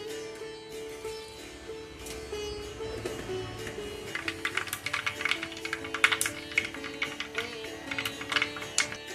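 Mustard seeds splutter in hot coconut oil, giving a quiet hiss that breaks after a few seconds into scattered sharp pops and crackles, close by and growing busier, with no talk.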